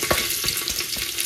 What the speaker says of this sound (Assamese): এইখিনি দিলে এতিয়া ভাজিম এইখিনি ধুনীয়াকৈ ভাজি ল'ম